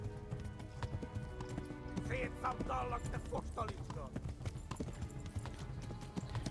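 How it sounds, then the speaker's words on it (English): Rapid hoofbeats of a horse in the video game Kingdom Come: Deliverance pound in a steady galloping rhythm, with a voice briefly talking over them partway through. "hope my horse can hold this gallop for a while"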